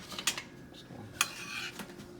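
A spoon scrapes and clinks against a dish while sauce glaze is spread over a baked meatloaf, giving a few quiet, sharp metallic taps amid soft wet scraping.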